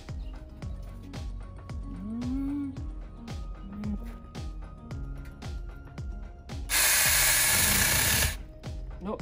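A small mini chainsaw whines steadily with a rhythmic pulsing, then revs into a louder, harsher burst toward the end; faint voices are present in the background.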